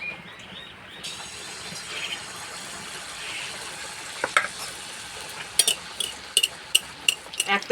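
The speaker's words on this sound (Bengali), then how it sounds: "আস্তে আস্তে জাল দেবো আর ভাজবো" Palm-fruit malpua batter fries in hot oil, giving a soft continuous sizzle with faint crackles, then sharper bursts of popping and clinks toward the end, with no voices.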